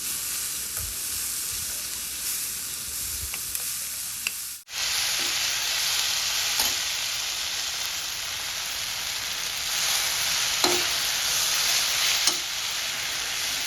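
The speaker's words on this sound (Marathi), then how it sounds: "आपण आता कोथिंबीर तेलामध्ये थोडी परतून घेणार आहोत" Coriander, onion, tomato, red chilli and coconut sautéing in oil for a Kolhapuri misal: a loud, even, hissing sizzle that starts abruptly a third of the way in, with faint stirring taps underneath.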